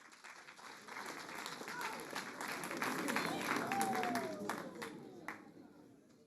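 Audience applause greeting a slam poet at a national slam poetry championship final, sustained clapping from a crowd that swells and then fades over several seconds, with a voice briefly audible over it.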